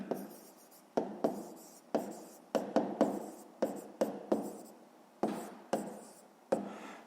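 Pen writing on paper during a geometry exercise, a string of short scratching strokes, each starting sharply and fading, close and quiet with no voice.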